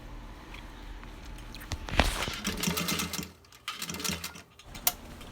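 Sewing machine stitching along the seam of a ripped jacket lining, a fast whirring run of stitches that starts, stops and resumes in short bursts, heard close up with no talking.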